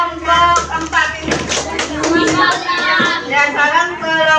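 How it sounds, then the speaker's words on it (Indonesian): Elementary schoolchildren in a classroom clap for a group of classmates, steady rhythmic hand claps layered under children's voices chanting along, loud and close. "tepuk tangan buat kelompok 4 ini"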